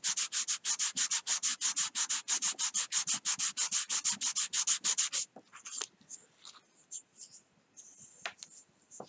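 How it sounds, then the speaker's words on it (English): A hand-carved wooden fishing lure gets rubbed in quick, even back-and-forth strokes, a close, steady scratchy rhythm for about five seconds, followed by scattered lighter rubs and handling noises. "We'll rub the side."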